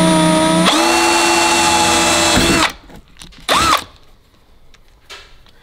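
A power drill with a 2mm bit whines loudly at high speed for a few seconds while fitting curtains in a VW T4 camper, then stops; a short second burst follows, then quiet handling clicks.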